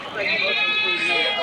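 At a village goat market in Kaitla, a goat gives one loud, drawn-out bleat close by, held steady for about a second.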